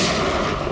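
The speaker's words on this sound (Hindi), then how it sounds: "मुझे कवर करो और फायरिंग करते रहना" Gunfire in a shootout scene from the CID television drama: a dense, roaring wall of blast noise filling the short stretch, loud and continuous with no gaps between shots.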